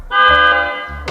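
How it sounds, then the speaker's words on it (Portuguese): A single short electronic horn beep from a KingSong electric unicycle, bright and tonal, sounds close and loud for about a second. "Tem aqui a buzina."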